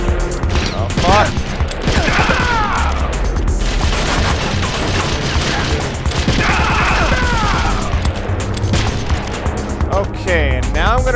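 FAMAS assault rifle fire in Metal Gear Solid: The Twin Snakes, rapid loud bursts of gunfire running throughout amid game effects and shouting voices, with someone talking over the action.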